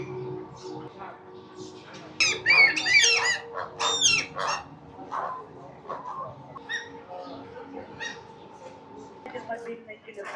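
Birds call and squawk at Moscow Zoo, a burst of bright chirps near the middle with scattered calls after, amid outdoor ambience and faint voices.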